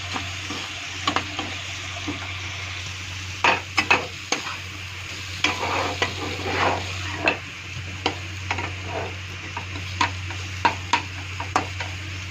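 A spice paste of cumin, ginger and green chili fries in a pan with a low steady sizzle, while a spatula scrapes and taps at an irregular rhythm, close and fairly loud.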